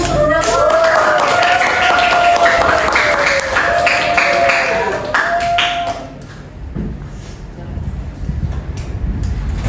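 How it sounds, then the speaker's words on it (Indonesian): Classroom applause from students during a microteaching lesson, brisk clapping mixed with a ringing tone and chatter, dying down after about six seconds into quieter room noise. "Tepuk tangan."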